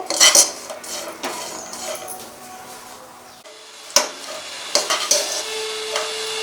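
Cashews and raisins frying on a low flame for sago and vermicelli payasam, with clinks of a metal spoon against the pan and a soft, quiet sizzle between occasional louder scrapes.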